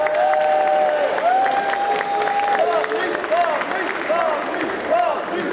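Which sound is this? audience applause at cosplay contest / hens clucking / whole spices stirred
audience applause at cosplay contest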